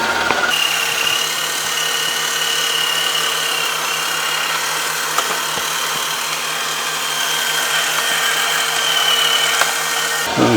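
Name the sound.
CHUWI ILIFE V5 Pro robot vacuum running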